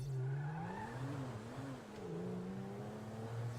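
A car in the GTA video game revs and pulls away with a steady engine drone that rises and dips slightly, close and continuous with no talk.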